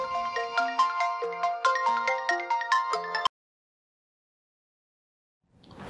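A mobile phone ringtone rings indoors as a call comes in from family, playing a loud, clear melodic pattern for about three seconds before cutting off abruptly into silence.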